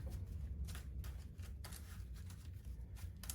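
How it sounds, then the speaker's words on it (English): A Pokémon trading card deck being shuffled at a tabletop game, a steady rustle of riffling and sliding cards over a constant low background hum, with no talking. "We'll shuffle up the deck here."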